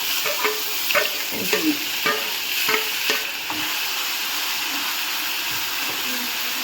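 Ground spice paste frying in a pan over a low flame, a steady close sizzle broken by repeated scraping stir strokes.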